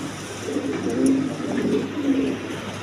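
Pigeons of several breeds, including big-sized ones, coo softly in a low repeated rolling call, fairly near and quiet, with slight background hum.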